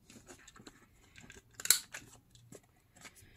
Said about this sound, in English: I'm gonna use that and just quickly cut the corners here on the top.